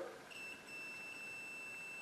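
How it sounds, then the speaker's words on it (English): A multimeter continuity beep while testing a dryer's thermal fuse, a single steady high tone that sounds briefly and holds, faint and close in a quiet room. "and you hear the beep"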